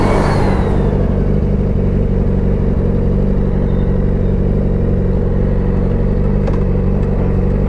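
A motorcycle engine runs steadily and loudly at close range, holding a sustained low drone that swells slightly as it revs with a mechanical whir, and no one speaks over it.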